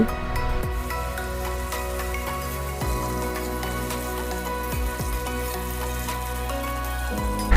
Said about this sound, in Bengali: এবার লম্বা করে কেটে ধুয়ে রাখা আলুগুলি ভেজে নেব।